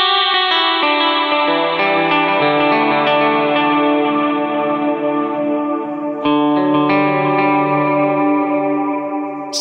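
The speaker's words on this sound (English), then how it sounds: "Let's load up a Glitz cloud reverb here." Electric guitar through a Line 6 Helix with Halo delay and Glitz cloud reverb plays sustained notes that bloom into a huge, shimmering, modulated wash of long delay trails, loud and continuous.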